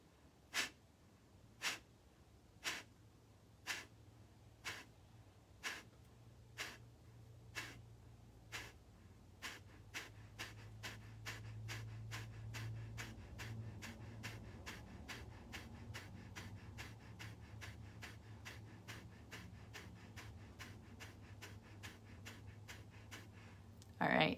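Sharp, forceful breaths pulse in a breathing exercise, starting slow and evenly spaced, then quickening into a rapid steady rhythm of short bursts, close to the microphone with no talking.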